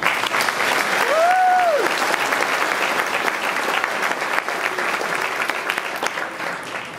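Sustained applause from an audience at a valedictorian's graduation speech, honoring teachers and faculty; steady dense clapping fills the room for several seconds, with a brief whistle-like cheer near the start.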